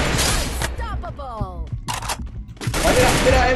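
Gunfire in the battle royale game Free Fire Max, rapid bursts of shots in the opening and closing stretches, with someone talking over the middle.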